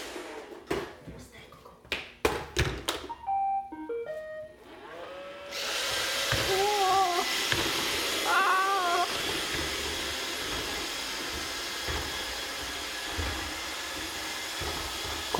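An automated robotic floor sweeper starts up into a steady whirring motor hum that runs on continuously, preceded by sharp clicks and brief chirping tones, with a small Havanese puppy nearby.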